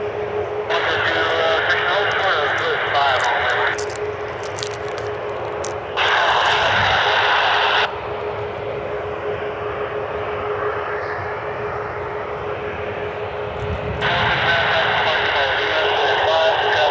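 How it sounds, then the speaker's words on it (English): An Aer Lingus airliner on final approach to Cleveland Hopkins airport, its engines giving a continuous loud rumbling roar that builds and recedes, with bursts of radio chatter and nearby speech cutting in over it repeatedly. "Aer Lingus on final here."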